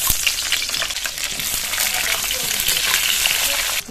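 Eggplant pieces frying in hot oil, a steady loud crackling sizzle close up, continuous throughout with bright spitting texture.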